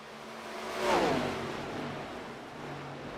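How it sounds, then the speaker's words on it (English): An ARCA race car engine revs up and falls back during a pre-race warm-up at Atlanta, a single rising sweep near the start, then a lower steady engine drone that fades into the distance. "5 minutes to get these cars all warmed up here."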